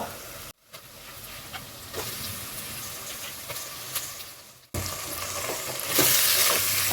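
Korigida fish frying with onions in a pan, a steady loud sizzle and hiss with stirring scrapes, briefly cut off and then swelling louder near the end.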